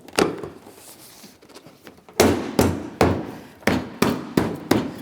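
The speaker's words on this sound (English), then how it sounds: "Just a couple light taps." Light taps seat a front bumper cover against the headlamp assembly on a 2007-2014 Ford Edge, heard as a quick series of about six sharp, close thumps in an uneven rhythm after a brief soft knock.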